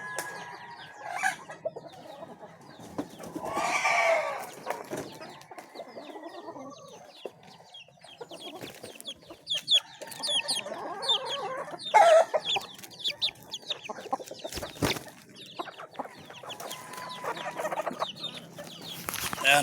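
Chickens cluck on and off in a busy, cluttered yard, with scattered short calls and a few louder squawks over steady background activity.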